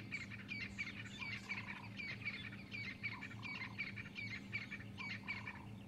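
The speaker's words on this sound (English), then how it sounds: "I can hear the magnificence of the dawn chorus. Beautiful francolins calling, some drongos, doves." Many birds call at once in a lively dawn chorus of francolins, drongos and doves, with repeated bright chirps and whistles over lower, steady cooing and a soft background hum.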